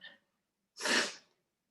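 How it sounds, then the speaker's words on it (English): A person gives one short, sharp sniff, close and clear, after a brief faint breath, with silence around it. "excuse me for sniffing."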